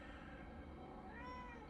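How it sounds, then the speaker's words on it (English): A female cat in heat yowls in a drawn-out, wavering cry that rises and bends in pitch, fairly close and steady for under two seconds with no talking. "like how my cat is in heat."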